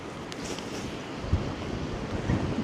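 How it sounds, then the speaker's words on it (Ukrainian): Stormy sea waves at Arkadia beach in Odesa roar in a continuous wash, with wind rumbling against the microphone and a few heavier surges breaking through. "Хвилі такі, вау."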